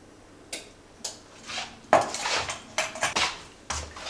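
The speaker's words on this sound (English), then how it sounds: "Now we're going to mix the extract, the vanilla extract, all together with the pecan pie mixture" A spoon stirs vanilla extract into a pecan pie mixture in a bowl, giving irregular clinks and scrapes against the dish, close and moderately loud, with no voices.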